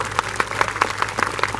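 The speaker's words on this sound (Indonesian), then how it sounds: "Tepuk tangan untuk kita semuanya." Scattered clapping from a small gathering at an Islamic sholawat religious event in Banjarsari, Madiun, with irregular claps rising and falling under a faint steady hum.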